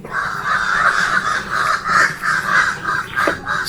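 Crows cawing repeatedly outdoors near a mountain outdoor kitchen in Jamaica, harsh calls rising and falling in a steady run over a noisy background.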